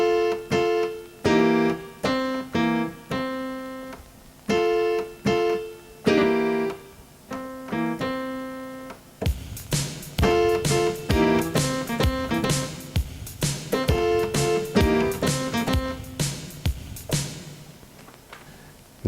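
Blues left-hand chord pattern on a keyboard in C, a thumb-played C alternating with left-hand chords, first as spaced repeated chord stabs, then a denser, busier rhythmic passage, close and clear with no talking.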